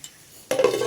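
A utensil scrapes and clinks against a pan as brinjal pieces are stirred into hot tempering, a short metallic scrape beginning abruptly after a quiet moment, close and fairly loud with a faint sizzle beneath.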